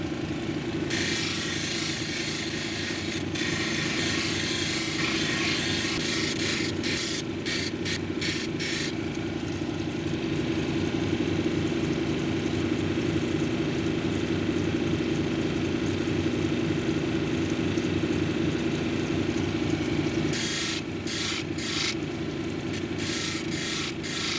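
A 280 grit cabochon grinding wheel whirs steadily as dumortierite stone is shaped against it, a constant motor drone with scratchy grinding that intensifies in stretches, close and loud, no voices.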